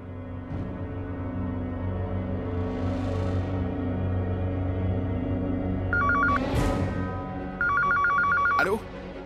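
A telephone bell rings loudly in a room in two bursts of rapid trilling, heard over a steady background and a brief voice.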